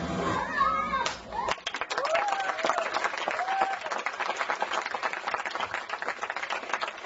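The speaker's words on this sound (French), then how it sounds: "merci pour vos applaudissements" Audience applause follows a children's theatre play performed in patois at a neighbourhood school festival, a dense patter of many hands clapping under steady crowd chatter and children's voices, with talk overlapping throughout.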